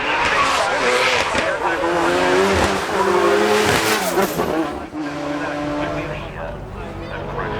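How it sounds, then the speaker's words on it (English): A Range Rover spins donuts at the Goodwood Festival of Speed 2017, loud tires squealing and engine revving continuously and up close, with a commentator talking over the action. "He's going to join in with donuts with the Range Rover."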